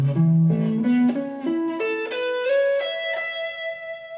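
An electric guitar picks a major add9 arpeggio note by note, adding the 2 between the root and the third as it climbs steadily upward, with the final high note left to ring out and fade.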